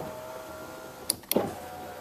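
Short whirring bursts from a Buick power window motor worked by its door switch, two brief pulses about a quarter second apart with a fuller motor sound after the second, fairly quiet over a steady background hum.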